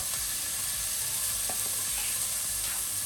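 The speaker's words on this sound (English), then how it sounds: "we are going to turn the heat to low to fry some red oil out of the chili paste" Chinese chili paste fries in oil in a pan over low heat, giving a steady, soft sizzle with faint crackles and no voices.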